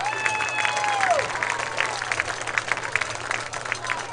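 A crowd in a school gym applauds a girls volleyball team. The clapping is moderate and continuous, and a brief whistle-like tone and some chatter show up early.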